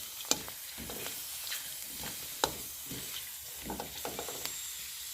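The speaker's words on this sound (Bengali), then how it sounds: "তেল আমাদের গরম হয়ে গেছে, চলুন বন্ধুরা এবার ফুচকাগুলোকে ভেজে নিই।" Fuchka puris deep-fry in hot oil, a soft continuous sizzle broken by scattered clicks and knocks of a utensil moving them around, with no voices.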